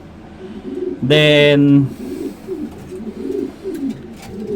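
Pigeons coo in a racing pigeon loft, with one loud, close, drawn-out coo followed by softer murmuring coos, while someone speaks briefly nearby.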